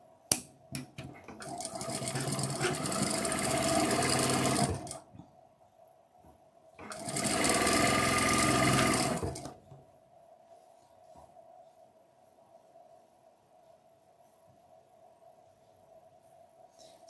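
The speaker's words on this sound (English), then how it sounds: "I'm actually locking my seams. And there's the one I'm missing. Just a little forward and back stitch." A sewing machine stitching quilt block seams forward and back to lock them, two loud steady mechanical whirring runs of a few seconds each separated by quiet pauses, with faint clicks between.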